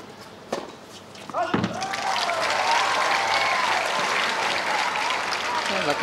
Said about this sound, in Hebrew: שבר את הקרח והקהל מריע בהמוניו ובהתרגשות